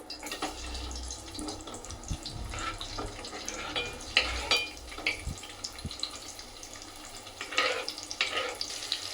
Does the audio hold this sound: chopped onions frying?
yes